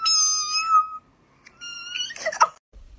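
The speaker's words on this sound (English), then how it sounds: "My cat's meow is so high-pitched" A cat gives a couple of high-pitched meows, the first long and drawn out, the second shorter and rising, followed by a brief rustle, close and clear against a quiet background.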